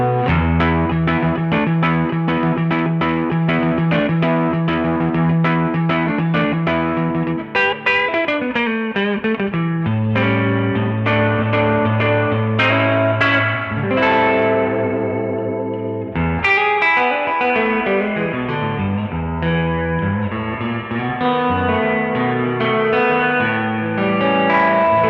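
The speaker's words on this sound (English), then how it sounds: "This is a digital reverb that Keeley came up with for us. And it's a Spring reverb emulation." Electric guitar notes and chords through a Benson amp ring out with a splashy, echoing digital spring reverb emulation tail, played continuously and loud.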